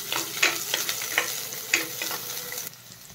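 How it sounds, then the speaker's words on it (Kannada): Chicken masala onions sautéing in hot oil in a pan, a steady close sizzle broken by several scraping stirs of a spatula, with no voices. "ಈಗ ಇದು ಎಣ್ಣೆ ಕಾದಿದೆ ಅನಿಸುತ್ತೆ. ಎಸ್, ಕಾದಿದೆ. ಇದನ್ನು ಸ್ವಲ್ಪ ಬಾಡಿಸ್ಕೊಳ್ಳೋಣ."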